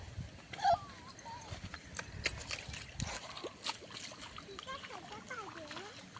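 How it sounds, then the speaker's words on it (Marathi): Water splashes in several short, scattered bursts nearby while a child and an adult talk over it. "हां उडव पाणी."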